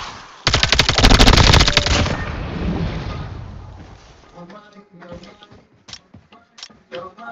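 A shotgun fires in a COD Mobile battle royale match: one loud blast with a long rumbling tail, followed by a quick string of sharper, fainter shots and clicks.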